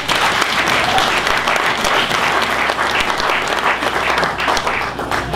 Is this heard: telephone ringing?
no